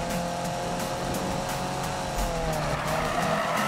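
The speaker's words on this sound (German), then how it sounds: "Wenn das Heck ausbricht bei 500 PS" A 500-horsepower Subaru race car in Need for Speed, oversteering with its tail sliding out: a loud, continuous tire squeal over the steady drone of the engine, with no break in the skid.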